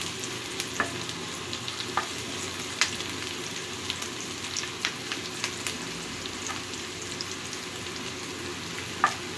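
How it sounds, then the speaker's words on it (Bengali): Onions frying in a pan, a soft, continuous sizzle heard close up with small pops and crackles scattered through it, and no talking. "পেঁয়াজটা বেশি ভাজা ভাজা করা যাবে না"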